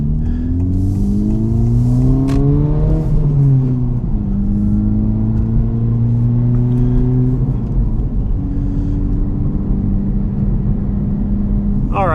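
Honda Civic Type R with a dual resonator delete drones steadily from inside the cabin while driving, engine tone rising through gears with shifts, loud and continuous, no talk.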